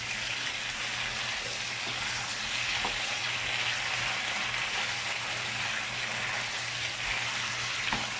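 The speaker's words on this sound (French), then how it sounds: "Et ici, le but, comme j'ai dit, c'est de les frire." Steady, dense sizzle of meat frying in a pot over high heat for a meat, potato and green vegetable stew, continuous and fairly close with a low hum beneath and no talking.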